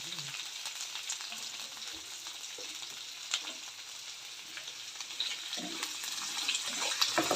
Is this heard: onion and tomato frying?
yes